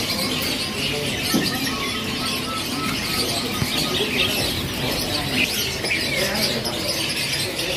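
Canaries chirp and tweet in a bird shop, many small birds calling at once in a busy, overlapping chatter with scattered sharper peeps standing out against a constant background din.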